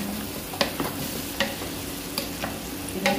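Potato, carrot and zucchini pieces sizzle in a pan for chicken salona, a dense close frying hiss with regular scraping strokes of a spoon stirring through them, no talking.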